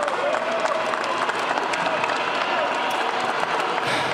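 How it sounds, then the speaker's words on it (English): Sustained crowd applause and cheering celebrating the Los Angeles Lakers as Western Conference champions, loud and steady throughout. "the applause is much louder, but I can assure you all of Los Angeles is clapping right now"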